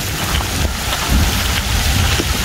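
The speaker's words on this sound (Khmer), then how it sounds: "ថ្ងៃមុនភ្លៀងតិចនេះភ្លៀងច្រើន" Heavy rain pours down steadily at a temple, a dense, continuous hiss of drops on surfaces with a low rumbling undertone, loud and unbroken throughout with no voices.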